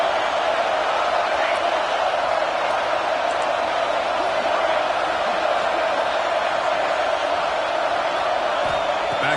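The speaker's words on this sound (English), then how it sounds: "It's early, but this crowd is fired up. Listen to this noise here." A football stadium crowd roars in a dense, continuous wall of cheering and whooping that stays loud and steady throughout, with a commentator's voice woven through it.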